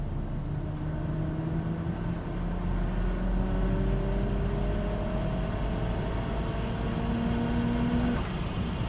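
Saab 9-3 Turbo X tuned to Maptun Stage 3 with stock injectors, intercooler, downpipe, intake and Mamba wastegate, pulling in fourth gear; the engine note climbs slowly and steadily over constant road rumble inside the cabin, no talk.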